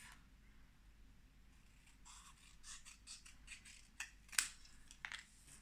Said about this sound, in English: Need my scissors, and I'm going to cut this in half.